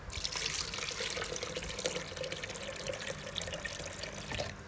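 Water poured into a plum sharbat mixture in a home kitchen, a steady continuous splashing trickle lasting several seconds, close and fairly loud, with no talking.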